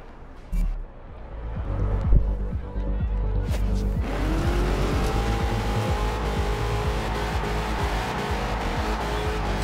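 A heavy muscle car with a 7.5-litre V8 roars in Forza Horizon 2, with a deep, loud engine note climbing through revs and tires squealing and skidding, and a voice speaking faintly at times.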